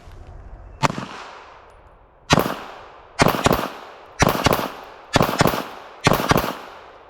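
Girsan BRAT pistol fired in quick pairs: six sharp, loud gunshots, one alone and then paired reports in a steady rhythm, each with a short ringing decay, close up and with no talking.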